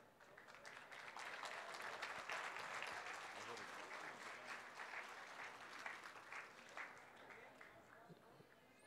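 Sustained applause from the crowd at a collective wedding ceremony as a couple steps up to receive their marriage certificate, steady clapping under faint voices across the whole stretch.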